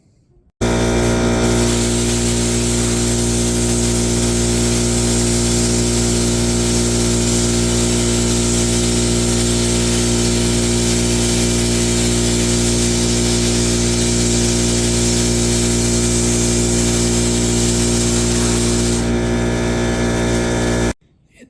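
A 4.5-inch cutoff wheel cuts through a scrap metal piece, a loud, steady, unbroken high-pitched whine with a strong tonal hum that runs for about twenty seconds before stopping abruptly.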